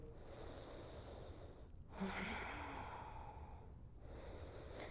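During a hot flow yoga class in a studio, a faint, soft inhale is followed by a louder, slow audible exhale, close and breathy against quiet room noise.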